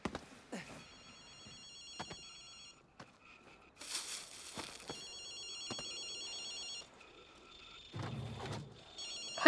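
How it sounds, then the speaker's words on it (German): A telephone rings inside the video game Ghostwire: Tokyo, sounding in repeated bright electronic ring bursts separated by short gaps and mixed with sparse game sounds. "Telefon."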